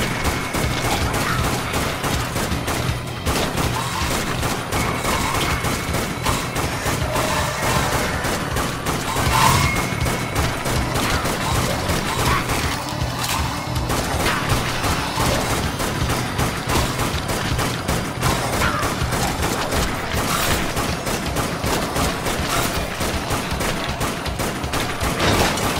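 Submachine gun fire in the Dead Nation video game, during a stage set in a trainyard: continuous rapid bursts with crashes and booms mixed in, loud and unbroken for the whole stretch.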